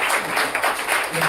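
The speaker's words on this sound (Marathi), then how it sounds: "आपण सर्वांचं आपण टाळ्या वाजून स्वागत करूया अगोदर" A congregation at a Methodist preaching centre inauguration claps to welcome guests, a dense, steady wash of many hands applauding for a brief moment.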